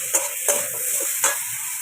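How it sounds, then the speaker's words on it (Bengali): Pumpkin curry with salt, turmeric and green chilies sautéing in a pan: a constant sizzling hiss with three quick scraping strokes of a spatula, close and moderately loud, with no speech. "এই একটু কষিয়ে নিলাম।"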